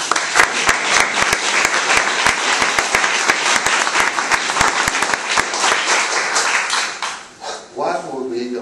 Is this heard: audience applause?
yes